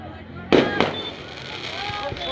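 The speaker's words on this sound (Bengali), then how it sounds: "আমরা পরিবেশ বান্ধব আলোয় আলো মুখরিত করার জন্য আলোর আতশবাজি আপনাদের সামনে তুলে ধরব" Fireworks at a celebration burst at close range: two sharp cracks come in quick succession, and a broad rumbling crackle carries on after them.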